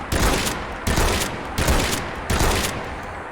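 Four booming shots from a GM6 Lynx semi-auto anti-materiel rifle firing .50 BMG in Fallout 4, evenly spaced about three-quarters of a second apart, each loud and close with a short decaying tail.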